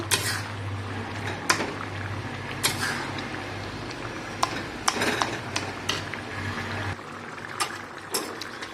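Boiled potatoes being mashed in a cooking pan, with repeated soft scraping and knocking of a utensil against the pan and occasional sharper clinks, close and moderately loud, with no talk.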